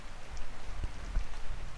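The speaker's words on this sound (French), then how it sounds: "les gouttes de pluie sèche et fraîche qui frappent tes vêtements et ta peau" Cool raindrops patter onto clothes and skin, a soft steady hiss of light rain with a couple of slightly heavier taps, close and gentle.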